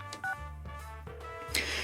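Home phone dialed inside a video game: a quick series of separate touch-tone beeps over a steady low musical background, each tone short and clearly audible, with no voices.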